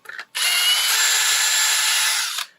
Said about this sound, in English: so I'm using a 1/4 inch drill bit. I'm just gently going in and out of each of those holes